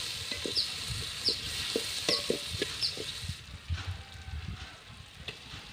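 Chopped tomatoes sizzle and fry in a pan for chicken curry, with a soft steady crackle and several scraping stirs of a spoon, fairly quiet, no talk.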